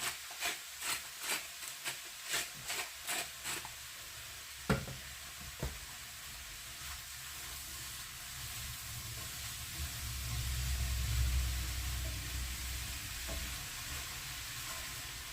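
Eggplant and other vegetables frying in a pan: a run of rhythmic scraping stirs and a few knocks, then a steady, soft sizzle that swells and fades, with no talking.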